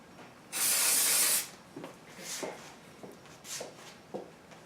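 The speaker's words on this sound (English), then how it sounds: "I'm just spraying a little bit in the front" A single close hiss of aerosol hairspray sprayed onto the front of the hair, lasting about a second, followed by quiet soft rustling and handling sounds.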